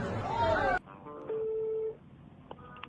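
A telephone rings once with a steady, mid-pitched electronic tone lasting about half a second, heard just after a burst of loud voices and music cuts off and before the line goes quiet.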